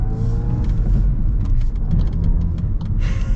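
A 2023 VW Golf R pulls away at low speed, its engine a steady low rumble with mild revving, and road and suspension noise plus faint intermittent clicks and knocks run through the whole stretch.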